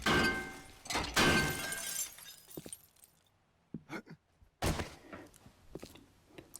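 Metal salvaging with a wrench in the 7 Days to Die video game, a run of loud crashing, clanking breaking hits near the start, then a few sharper impacts after a short pause.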